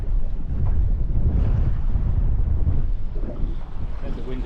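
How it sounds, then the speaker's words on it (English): Steady wind buffets a small fishing boat drifting over a wreck at sea, a constant loud low roar with gusty rumble across the microphone, water slapping faintly underneath, no voices. "Then the wind had dropped, it's picking up a little bit again"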